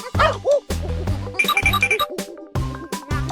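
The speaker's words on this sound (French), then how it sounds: "Ah, c'est le petit chien mignon et adorable." A small cartoon dog barks in quick, bright yips and bow-wows, several short bursts in a row, close and loud with no talk.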